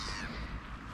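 Seagulls call at a shopping center, a harsh squawking cry that fills the short moment close and loud.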